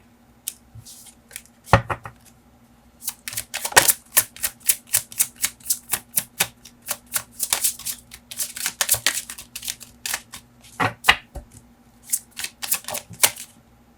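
Tarot cards drawn and shuffled from a deck, close dry riffling and snapping in irregular bursts over a faint steady hum, with a few sharper isolated clicks between the busier runs.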